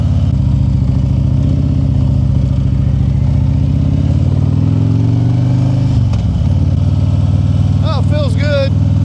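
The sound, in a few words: motorcycle riding after tire and bearing repair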